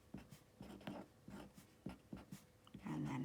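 Pen or marker strokes scratch out a math equation in short rhythmic bursts, quiet and close, with a few faint background sounds.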